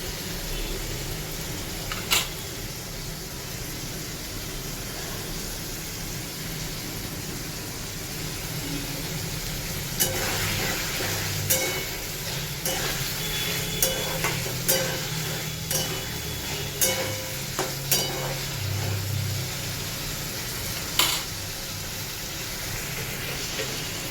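Paneer and masala simmering in a pan, a steady low bubbling sizzle with scattered clicks and stirring knocks, no talk over it.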